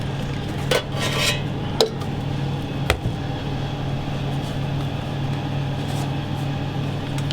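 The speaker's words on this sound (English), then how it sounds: "We take the pan. Here is all the ingredients." A pan and cooking utensils being handled in a kitchen while cod a la Spetsiota is prepared: a few sharp metallic clinks and knocks near the start over a steady low background hum.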